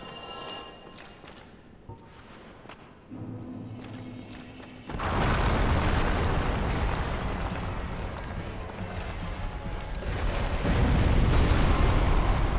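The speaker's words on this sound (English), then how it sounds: "He does a sideways slice, and then it's got a fire explosion at the end" A boss in Dark Souls ends a sideways sword slice with a fire explosion: a sudden loud, broad roaring burst that rumbles on for several seconds and swells again toward the end, with no voices.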